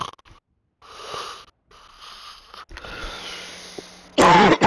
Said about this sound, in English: Cough louder, please.